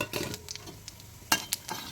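Three bay leaves and whole cumin seeds fry in hot mustard oil in a kadai. A soft sizzle runs underneath, with scattered stirring scrapes and light clinks against the pan.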